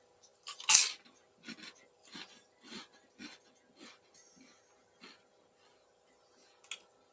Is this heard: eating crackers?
yes